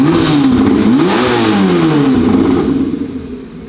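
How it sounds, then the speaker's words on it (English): A Corvette ZR1 engine revs hard on a dyno, a loud sustained roar with rising and falling pitch and turbo spool, then the revs drop away and it quiets toward the end. "I like that turbo spooling. You can hear a lot more now."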